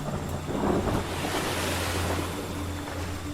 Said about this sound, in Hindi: उसके घुटनों तक पानी आया और लहर वापस जाते हुए पानी वो वापस ले गई